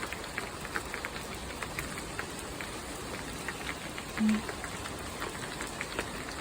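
Steady morning rain falls on surfaces nearby, a constant soft patter with no thunder and no voices.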